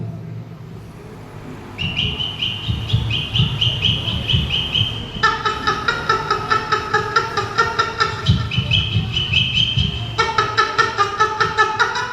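A performer's voice imitates frightened little hen chicks at a school arts festival mimicry contest, rapid repeated high peeping calls in pulsing bursts over a low rhythmic throaty sound, loud and close.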